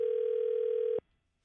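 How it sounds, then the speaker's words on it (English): A telephone ringback tone sounds while a call to Michelle is placed, one steady electronic tone held for about a second before it cuts off into silence. "Let's see if Michelle will pick up the phone."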